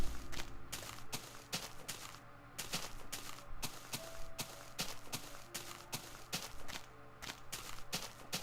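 Footsteps crunch in a steady rhythmic series through Minecraft terrain, faint and fairly distant, with no talking over them.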